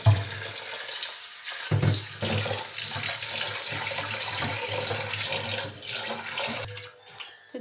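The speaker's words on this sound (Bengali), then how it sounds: "দেখি চালটা ধুয়ে দিই।" Rice grains washed in water at a home kitchen sink under a running tap; a steady, close rush of flowing water with splashing that eases off near the end.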